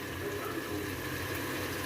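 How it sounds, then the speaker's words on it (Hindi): Water is poured into mutton korma as it cooks, making a steady, continuous splashing rush at moderate loudness with no speech over it. "अब मैं इसमें पानी डालूँगी"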